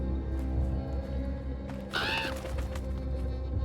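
One harsh crow caw cuts through a dense, steady background hum in the video game Draugen, brief and fairly close.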